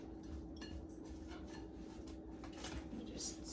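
Ground beef and salad with edamame being stirred together in a bowl for Korean beef bowls, giving a steady soft clatter of utensil against dish at close range with no talking.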